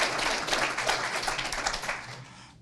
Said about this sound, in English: Clap anyway.